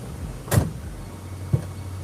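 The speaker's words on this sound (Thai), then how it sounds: "เดี๋ยวเราดูการเปิดปิดประตูกัน" A Hyundai H1 2.5 Elite van door opening and then closing: two brief, fairly close mechanical clunks about a second apart, over a low steady hum.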